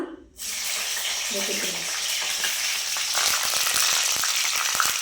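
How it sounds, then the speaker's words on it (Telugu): Green chillies drop into hot oil for a chicken leg piece fry, bursting into a loud, steady sizzle after a brief quiet start, with spatters and crackles growing denser toward the end. "నూనె అయితే కాగిందండి పచ్చిమిరపకాయలు వేస్తున్నా"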